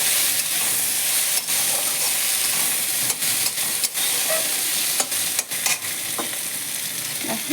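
Food being stirred in a pan while it fries for a spicy mashed snakehead fish (lata mach) dish, steady sizzle and hiss throughout with scattered scraping and clinking of the stirring utensil, fairly close and alone.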